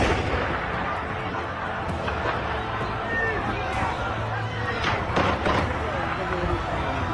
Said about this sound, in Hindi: रैली के बीचों बीच ये गोलियों की गड़गड़ाहट सुनिए